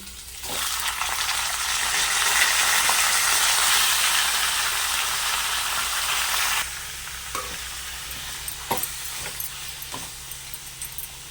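Loud steady sizzling of country rooster meat frying in a pan with ginger-garlic paste, easing after a few seconds, with occasional clinks of stirring.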